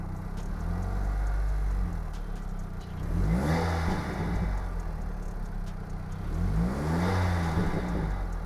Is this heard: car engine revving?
yes